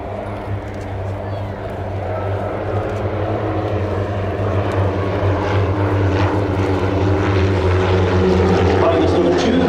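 Military aircraft at the Royal International Air Tattoo air show approach in chevron formation, a loud droning roar of propeller engines building steadily under a commentator talking over a public address.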